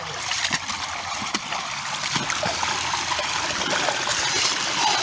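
Water rushing steadily through a gold sluice box packed with sandy, quartz-rich gravel, a continuous close wash with splashing and trickling throughout.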